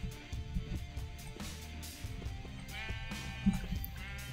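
A sheep in the game Minecraft gives a short bleat late on, faint against continuous background game music.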